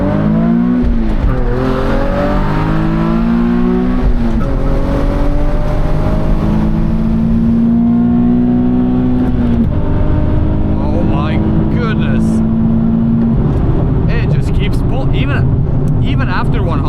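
A tuned Nissan 370Z V6 makes a first-gear pull with traction control off; the engine note climbs loudly in repeated rising sweeps, heard up close from inside the car.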